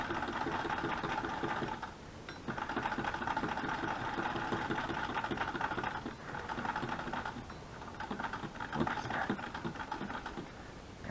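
A sewing machine stitches through crochet cordage with green bobbin thread, running in steady loud bursts that pause briefly around two, six and eight seconds.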